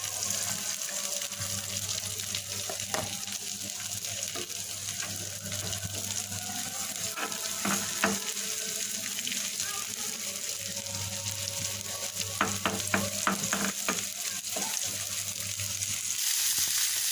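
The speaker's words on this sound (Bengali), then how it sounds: "বাদামি করে ভেজে নিয়েছি এবার পেঁয়াজ কুচি আর মরিচ দিয়ে দেবো" Eggplant frying with chopped onion and chili added, a continuous low sizzle with bursts of crackling and stirring clicks, accompanied by a steady background hum.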